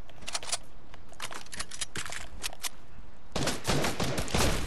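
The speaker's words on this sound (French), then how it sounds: "Ouais, ça tire, j'entends ça." Rapid bursts of gunfire ring out in a shooter video game: several volleys of crisp shots in quick clusters, loud and close, with a heavier barrage near the end.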